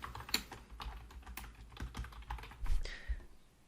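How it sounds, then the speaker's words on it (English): Typing on a computer keyboard while entering text into a form field, a quick run of close, crisp key clicks with a few heavier strokes near the end. "you just type into the placeholder"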